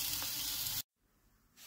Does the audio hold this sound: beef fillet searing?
yes